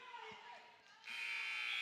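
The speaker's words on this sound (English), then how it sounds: "So Goodrich saved by the bell, or the buzzer there, and it's a 4-2 lead for Chris Goodrich" Buzzer sounding at the end of the second period of a high school wrestling match in a gym, a loud sustained electronic tone that starts partway through and holds to the end over crowd noise and commentary.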